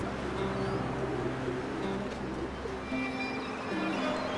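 Pigeons coo softly and repeatedly against a steady low background hum, with faint chirps here and there.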